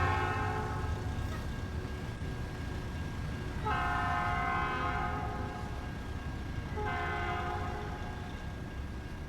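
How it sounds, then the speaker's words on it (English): A freight train rolls past near a level crossing, a constant heavy rumble under two long horn blasts that sound a few seconds apart, loud and close. "Oh, it's a freight train."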